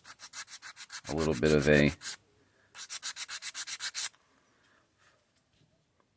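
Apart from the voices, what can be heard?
sanding block sanding the edge of lite-ply wood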